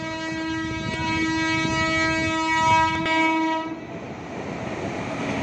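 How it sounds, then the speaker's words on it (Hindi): A train passes near the bullet train works on the Mumbai–Ahmedabad route heading toward Mumbai, its horn blaring loud and sustained for several seconds over rumbling wheels, then fading to track noise. "देख सकते हो यहाँ पे किस स्पीड से यहाँ पे ट्रेन जा रही है। ये मुंबई की तरफ जा रही है"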